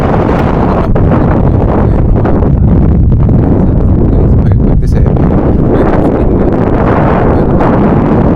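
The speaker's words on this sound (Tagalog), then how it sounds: "So lakas ng hangin guys." Heavy wind buffets the microphone in loud, continuous low roaring gusts, with a voice speaking briefly underneath.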